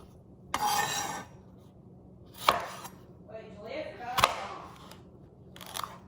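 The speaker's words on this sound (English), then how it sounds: "I'm gonna chop everything, cry my way through the onions" Onions and other fresh ingredients for peach salsa are chopped with a knife on a cutting board. Four separate bursts of crisp cutting come at uneven gaps, each about half a second long, close by and fairly loud, with quiet room noise between them.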